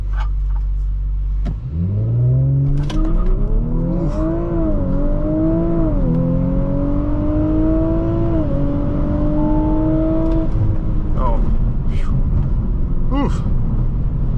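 Hard launch of a 2018 Audi RS5 Coupe from a full stop with stability control off, its engine note climbing loudly through the gears in a long, steady surge under continuous road and wind roar.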